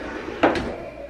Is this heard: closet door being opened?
yes